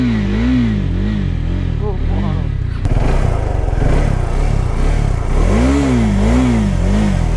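A motorcycle, ridden on a North Bengal to Kolkata trip, is started and revved near the listener, its engine rising and falling in loud repeated sweeps with a sharp burst about midway.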